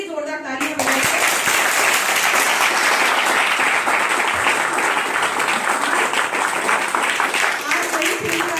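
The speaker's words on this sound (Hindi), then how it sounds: "मंच के लिए और अपने लिए जोरदार तालियां बजाइए।" An audience in a hall applauds loudly at a social organisation's ceremony honouring 31 girl students. Dense, sustained clapping fills about eight seconds after a brief voice at the start.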